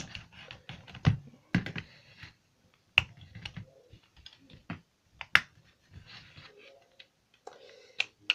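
Plastic clicks and snaps as a Transformers Titans Return Broadside toy is twisted and folded into robot mode, close and intermittent, with short sharp ratcheting taps scattered through the handling.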